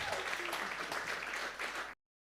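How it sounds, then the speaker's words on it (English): Audience applause at a product development workshop, a dense, even wash of clapping that holds steady for about two seconds and then cuts off abruptly. "Please can we give her an amazing round of applause"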